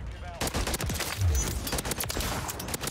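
Automatic rifle fire from a Holger 556 in Modern Warfare 3, rapid overlapping shots in continuous bursts, loud and close, with a voice talking over the shooting.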